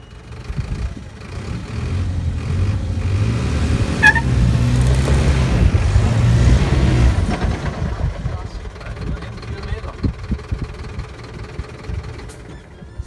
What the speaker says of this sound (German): Und dann Gas geben und raus, rückwärts.